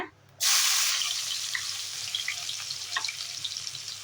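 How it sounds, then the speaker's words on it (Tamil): Chopped shallots hit hot oil for chicken curry, setting off a sudden loud sizzle that settles into a steady hiss with scattered pops and crackles, close by and without talk. "நல்லா வெங்காயம் எண்ணெயில் நல்லா வதங்கணும்"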